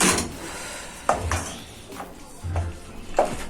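A spoon scrapes and knocks against a cooking pot as goat meat stew is stirred, giving several separate clinks and low scraping strokes with quiet gaps between them.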